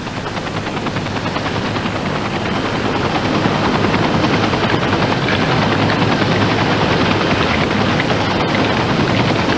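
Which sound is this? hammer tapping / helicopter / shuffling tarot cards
helicopter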